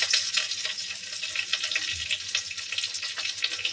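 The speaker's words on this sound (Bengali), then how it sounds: "রসুনটা আমার ভাজা হয়ে গেছে, দিয়ে দিলাম পেঁয়াজ কুচি" Chopped onion drops into oil with already-fried garlic, giving a close, busy sizzle with scattered pops and crackles, a brief low thump near the middle, and no voices.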